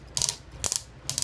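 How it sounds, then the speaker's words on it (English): Three quick bursts of crisp plastic clicking from the ratcheting shoulder joint of a Hasbro Transformers Combiner Wars Voyager Class Onslaught figure, each a short rattle of small clicks, close and fairly quiet. "Shoulders on a ratchet joint."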